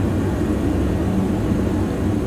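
Continuous broadband drone of a Diamond DA-42 twin-engine aircraft flying low over a city in a flight simulator, steady and loud with a rumbling low end, no voices.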